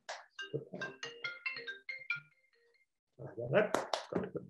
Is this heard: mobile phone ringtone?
yes